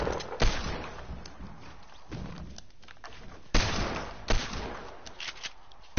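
Gunfire from a video game fight, with repeated loud, booming shots and bursts over a steady noisy background, a few heavy blasts standing out across the stretch.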